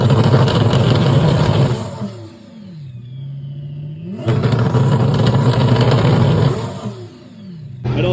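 Single-turbo swapped car revving on a two-step launch limiter in a garage, loud engine bursts with a dip and rising whine between, then a second hard rev cycle, close and without talk.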